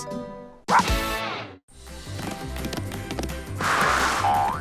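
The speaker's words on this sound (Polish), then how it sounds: "Chyba wszyscy znacie mojego konia, Rdzawka." A cartoon horse's hooves clip-clop in a quick, steady rhythm amid lively music and sound effects, with a sharp break partway through.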